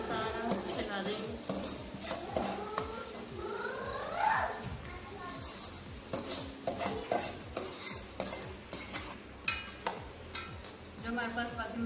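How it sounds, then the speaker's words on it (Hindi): Stirring and scraping in a pan as leftover masala is spread over stuffed eggplant (masala bharay baingan), with clinks of a utensil against cookware and a light sizzle throughout, all under steady talking. "अब हम इसमें जो हमारे पास बाकी मसाला बचा था वो डालेंगे। इसके ऊपर सारा फैला देंगे।"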